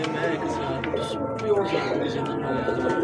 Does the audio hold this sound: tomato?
no